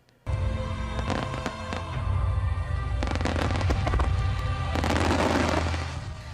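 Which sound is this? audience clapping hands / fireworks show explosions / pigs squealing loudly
fireworks show explosions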